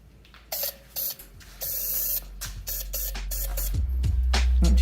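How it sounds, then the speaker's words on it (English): Short bursts of aerosol spray hit a part of a 1988 Yamaha YZ80 dirt bike, three or four close hissing blasts followed by a longer sustained spray, with some clunking handling sounds and no talk. "I'm gonna spray this, and actually you're just gonna slide it on in."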